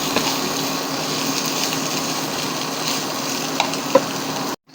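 Stir-fry sizzling steadily in a hot wok (kawali), a dense, continuous close-up hiss with a few small pops that holds for several seconds, then cuts off abruptly.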